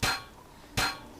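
Two sharp metallic hammer-like clangs from a video game car crash, about three quarters of a second apart, a third starting at the end, each with a bright ringing decay.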